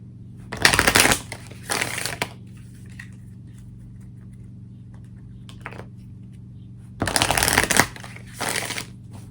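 Tarot cards shuffled by hand in a few quick riffling bursts, each about a second long, separated by quiet pauses over a low steady hum.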